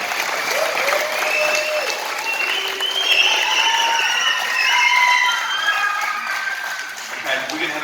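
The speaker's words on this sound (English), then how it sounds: "Can you give our graduates a big clap and round of applause?" A crowd at a primary school graduation gives sustained applause mixed with excited children's shouts and chatter, rising and falling in intensity throughout.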